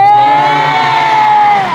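A concert crowd at a London live show cheers and whoops loudly during the sponsor thank-yous, a bright, sustained roar with a high shrill tone ringing through it.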